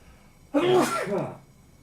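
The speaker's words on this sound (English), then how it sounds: "Hold on, I'll just sneeze." A single sharp sneeze bursts out close to the microphone, a quick intake followed by a loud explosive release, then quiet.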